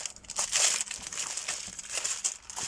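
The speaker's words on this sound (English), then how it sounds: "These are all baking paper pieces." Pieces of baking paper crinkle and crumple in close, continuous bursts of crisp rustling that swell and fade in uneven handfuls, with no voices over them.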